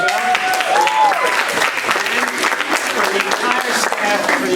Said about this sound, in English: I'd also like to give a great round of applause for our branch manager